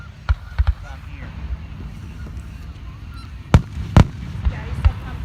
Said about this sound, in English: Those geese are really not happy.